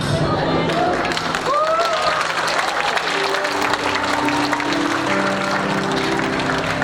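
Audience applauding at a church feast anniversary gathering in Marikina, sustained loud clapping from a large crowd with scattered cheers, under a speaker's voice.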